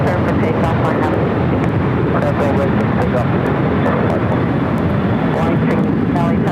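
A fixed-wing airliner takes off from runway 24 Left at LAX, giving a loud, steady, broadband jet engine roar that holds at a constant level throughout with no pause.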